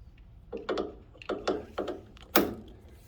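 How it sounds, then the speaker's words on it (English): An RV strut being pulled out gives a close series of about five sharp mechanical clicks and scrapes, with the last one the loudest, alone over a low background hum. "kind of just pull the strut out"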